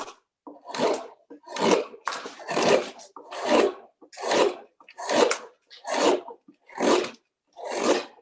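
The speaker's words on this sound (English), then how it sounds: "That gouging action is out of this world." Gouge carving the bowl of a wooden spoon held on a Georg spoon mule, about ten evenly spaced scraping cuts, each a close rasping stroke with short quiet gaps between.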